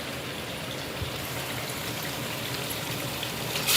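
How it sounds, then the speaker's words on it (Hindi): Water pours steadily into a pot of soaked rice for pulao, a continuous close splashing gush with no talk over it. "तो पानी डालते हैं।"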